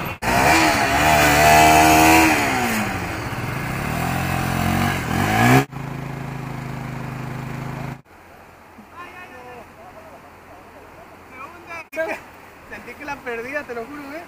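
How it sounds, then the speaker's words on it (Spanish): A Pulsar 200NS motorcycle stuck in beach sand revs loudly for about five seconds with a wavering engine whine, then cuts out abruptly. Quieter wind and voices follow. "Tenemos la moto atascada en la arena."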